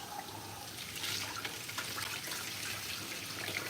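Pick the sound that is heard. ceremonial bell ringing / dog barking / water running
water running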